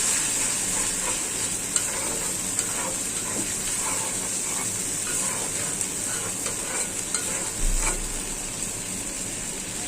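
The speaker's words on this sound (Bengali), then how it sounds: "মশলাটা কষানো হোক" Onion, ginger and garlic masala paste fries in a pan, giving a loud continuous sizzle with a steady hiss and occasional stirring clicks throughout.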